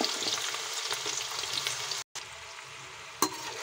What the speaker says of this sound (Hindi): तेल गरम हो गया है, अब कटहल डाल देते हैं तेल में।